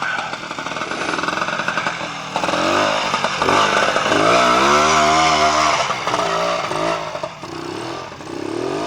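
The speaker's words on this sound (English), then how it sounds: "This is Ken Bratley coming through on the Clubman route. Riding his Francis Barnett." A Francis Barnett motorcycle rides a trials section on the Clubman route, its two-stroke engine buzzing loudly and steadily close by, revving and easing as the rider works through the course.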